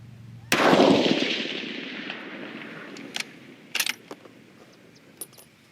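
A single rifle shot fired during powder charge weight load testing, at 43.8 grains, booms sharply and loud with a long decaying echo, followed by a few faint metallic clicks and taps.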